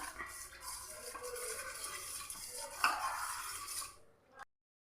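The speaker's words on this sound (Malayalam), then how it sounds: "ഇങ്ങനെ ഒന്ന് ഇളക്കി കൊടുത്തുകൊണ്ടേ ഇരിക്കുക" A spoon stirs milk heating in a pan on a stove, giving faint, continuous scraping and light clinks against the metal, with one brighter clink near the end before everything drops to silence.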